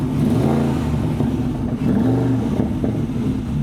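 A Porsche Cayenne Turbo engine revs steadily with a deep, burbling exhaust note, loud and close, holding a throaty rumble with slight rises in pitch.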